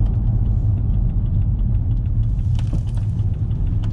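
A 2013 BMW 318d diesel with a front suspension rattle drives along, heard from inside as a loud steady low rumble, with faint repeated light knocks rising over it in the second half.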